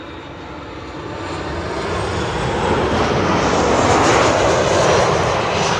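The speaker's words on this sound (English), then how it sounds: "This is a Bombardier Challenger 350 returning from Switzerland, Geneva." A Bombardier Challenger 350 business jet arrives at Schiphol from Geneva, its engine roar swelling from a distant rumble to a loud, broad whoosh as it passes nearby.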